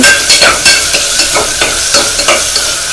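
A single tomato is stirred into a hot pan with ginger garlic paste, a loud steady sizzle broken by regular scraping strokes of the spoon, close up with no talking.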